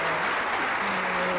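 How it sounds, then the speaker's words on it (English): A conference audience claps for a keynote speaker, a steady burst of applause filling the hall, fairly soft and continuous throughout. "So I'm asking Tressie another round of applause."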